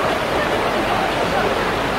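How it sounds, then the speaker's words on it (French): A small river flows over rocks in the Ourika mountains of Morocco, a steady, close rushing and gurgling of water that fills the whole moment without a break. "Les pieds dans l'eau, la petite rivière"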